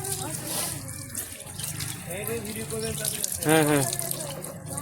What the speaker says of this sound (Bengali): মুখটা ধুয়ে নে তাড়াতাড়ি, মুখ ধুয়ে নে।